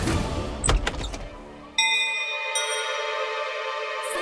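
A bright bell strikes at once and rings out with a long, sustained shimmering tone, after a few short knocks and thumps.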